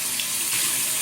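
Water running from a tap into a sink, warming up for a shaving brush, a steady close hissing splash with no talking.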